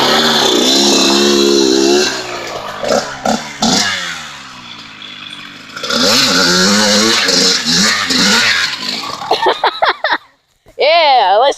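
Dirt bike engine revving hard and wavering in pitch while doing a donut in second gear, loud and close, cutting out briefly near the end before roaring back; voices talk over parts of it.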